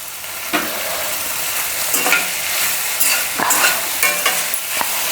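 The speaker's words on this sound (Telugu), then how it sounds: "ఇంకా మాడిపోకుండా కలుపుకోవాలి మధ్యలో మధ్యలో." Creamy chicken pasta with pasta masala and curry leaves being stirred in a pan, repeated scraping strokes over a constant loud sizzle, no voices.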